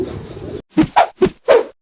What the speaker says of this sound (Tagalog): lahat ng ating mga alagang kalapati